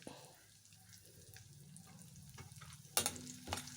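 Ginger, garlic and green chillies fry in a pan, a soft sizzle with stirring scrapes and a sharp clatter near the end, while a faint voice talks in the background.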